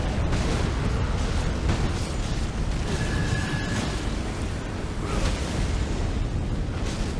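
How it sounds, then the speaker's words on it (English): Dense, roaring game combat in Elden Ring Nightreign, with a heavy charged-up punch landing amid continuous rumbling bursts and booming impacts, loud and sustained throughout with no talk. "that charged up attack, that thing is so satisfying to hit"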